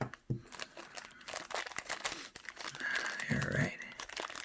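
Plastic packaging bags holding a car air vent phone holder are cut open up close, with soft crinkling, crackling and tearing plastic in short irregular bursts.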